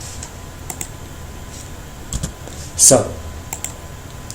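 Keyboard typing while writing Django Python code: a few scattered, light key clicks at close range under someone speaking in a quiet room.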